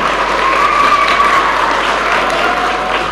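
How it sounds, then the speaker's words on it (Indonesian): Students at MTs N4 Karanganyar, a school, break into loud, close, dense applause that holds steadily for the whole stretch with no talking over it. "oke, tepuk tangan semuanya."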